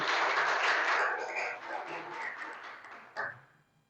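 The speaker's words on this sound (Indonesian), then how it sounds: "Kita berikan aplaus untuk Firman." A short round of applause from a classroom of students in an Indonesian art lesson, dense clapping at first that thins and fades, ending with a few scattered claps.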